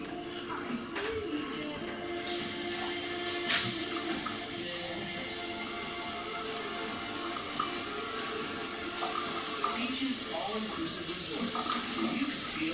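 Tap water runs steadily into a measuring cup in a home kitchen while making vegan wedding soup, a continuous close splashing stream lasting several seconds with brief changes in pitch as the cup fills.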